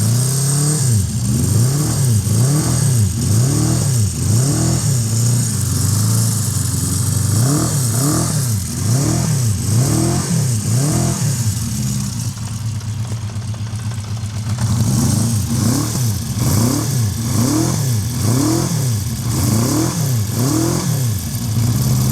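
A cold 1976 Honda CB400 Four motorcycle engine revs up and down in regular loud bursts while warming up at close range, with a short steadier lull near the middle.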